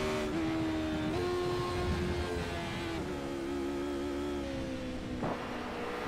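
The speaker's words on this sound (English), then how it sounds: "We were riding on board to listen to what happened to let the motor go." A race car engine in a sim racing game screams at sustained high revs after a botched money shift, a steady harmonic drone with a few abrupt pitch jumps and no voices.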